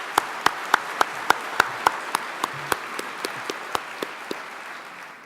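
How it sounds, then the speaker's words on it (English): Audience applause at a general session event, with a dozen or so loud, evenly spaced claps standing out sharply over a steady bed of crowd clapping that tapers off slightly toward the end. "So please help me give them a round of applause."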